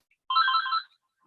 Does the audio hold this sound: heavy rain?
no